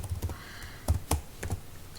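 Quick keystrokes on a computer keyboard while entering a Python print statement, sounding as a close, irregular run of light clicks and a few heavier key presses, with no talking.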